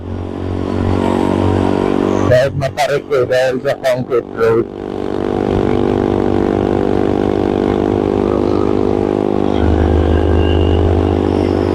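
A Honda CRF150L motorcycle engine drones steadily and strains under load as it climbs a steep road, while someone talks over it and a brief burst of clatter cuts through.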